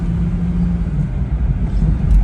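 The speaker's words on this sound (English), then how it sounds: "But I really love the exhaust note on it." A BMW 440 convertible with xDrive is driven with the top down, giving a low, steady exhaust rumble with slight swells and a rise near the end, close and loud with no talking.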